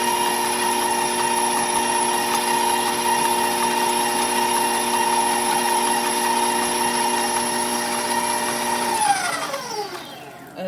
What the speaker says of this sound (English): Let's pull our mixer back up. And Ember's going to turn it on to a stir for us.